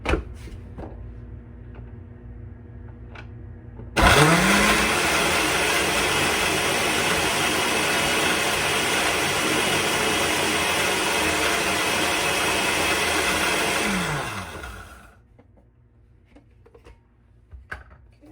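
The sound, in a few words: blender running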